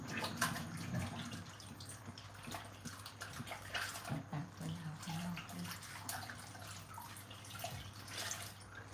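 Water poured into a cooking pan while making sweet coconut filling for Thai khanom thian, a steady splashing pour close by with faint background sounds.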